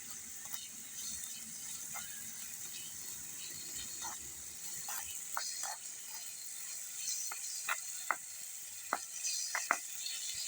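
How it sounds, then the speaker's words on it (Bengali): Onions and spices are stirred in a small toy wok on a miniature cooking set. A soft, steady sizzle runs throughout, broken by scattered light scraping clicks and taps of the spatula against the pan. "পেঁয়াজ দেওয়া হয়ে গেছে, এবার ভালো করে আমরা নেড়ে নেব। আস্তে আস্তে নাড়তে হবে"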